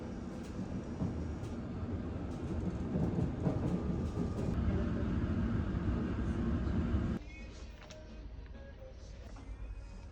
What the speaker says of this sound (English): Train at the platform.